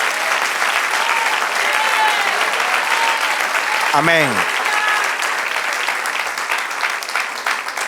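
A church congregation bursts into applause at a Spanish-language service, a dense wash of clapping filling the room throughout, with a preacher's voice speaking over it and a brief rising vocal cry midway.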